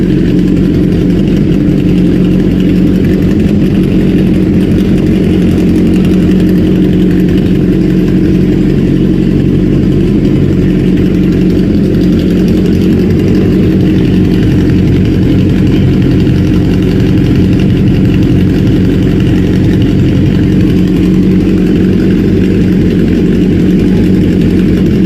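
Suzuki Hayabusa motorcycle engine, built as a sleeper, idling loudly and steadily close by with a deep, even rumble and no talk.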